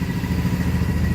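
A BMW X5 E70 engine idles after starting, a steady close mechanical rumble with light clatter, unbroken and even throughout.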